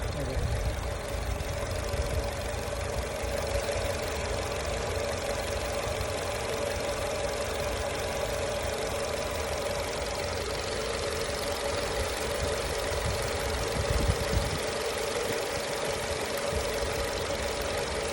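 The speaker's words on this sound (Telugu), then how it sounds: "ఇంజన్ యొక్క నాయిస్ని కూడా మనం అబ్జర్వ్ చేయొచ్చు మిత్రులారా" A Skoda Rapid with a 1.6 litre petrol engine, about 250,000 km driven, idles steadily with a constant, even hum and a faint knocking texture throughout, close and continuous, with no voices.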